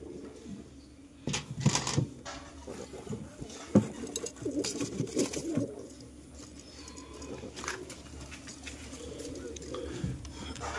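Soft cooing of Deshi Giribaz pigeons and their newly hatched young comes through amid rustling and scraping nearby, fairly quiet, with low murmured sounds around it.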